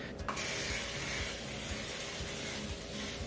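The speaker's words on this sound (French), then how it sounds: "C'est un mini setting spray de Morphe à la pêche." A burst of Morphe mini peach-scented setting spray mists out in a short, close hiss right at the start, followed by a steady broadband hush and faint clicking handling noises, with no talking.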